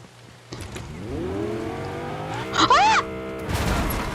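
Engine of a car driven in the Fortnite video game, a rising drone that revs up, with a short squeal and clatter midway, close and steady with no talk.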